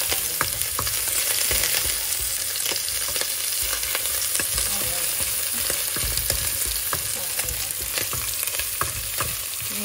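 Garlic frying in cooking oil in a pan, a dense continuous sizzle with scattered crackles and pops, loud and close, no talking.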